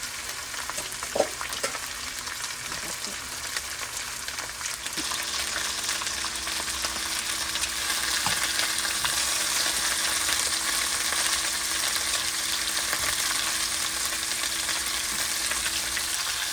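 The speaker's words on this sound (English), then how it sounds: "let the skin brown as long as I can until the juices runs out and kind of coats the pan in" Chicken skin searing in a pan for adobo, giving off a loud, steady, close sizzle that runs without pause, with a few faint clicks near the start and no voices.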